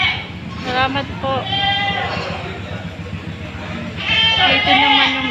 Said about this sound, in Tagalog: Ito naman yung bilihan ng mga kambing, makatayin or alagain